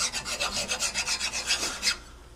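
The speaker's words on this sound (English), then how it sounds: "like to just hand file a nice flat surface, take off any rust" Hand file rasping rust off a steel brake bracket on a 1957 Chevy Bel Air, about a dozen quick, even strokes in steady rhythm, close and clear, ending in quiet.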